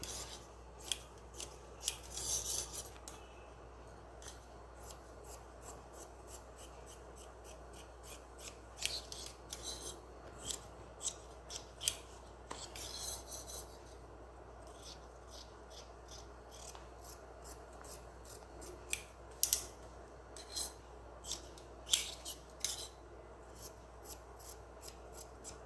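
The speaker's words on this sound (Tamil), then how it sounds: "இப்போ இதை அப்படியே வெட்டிக்கலாம்." Scissors snip through blouse fabric in a run of short, crisp cuts that come in irregular bursts, close and fairly quiet, with no talking over them.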